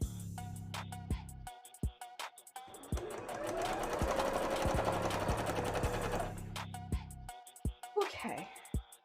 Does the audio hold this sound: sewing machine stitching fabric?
yes